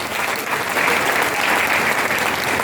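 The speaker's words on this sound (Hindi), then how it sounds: "मैं चाहूंगा अब्दुल कलाम जी को जोरदार ताली एक बार।" Audience at a network marketing leadership talk gives loud, dense applause for Abdul Kalam, a sustained round of crowd clapping with no speech over it.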